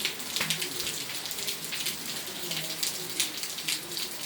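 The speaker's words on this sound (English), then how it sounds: "Oh, look at the hail." Hail pours down in Hemet, a dense, continuous pattering and clattering on surfaces with scattered sharper hits, moderately loud and steady with no one speaking.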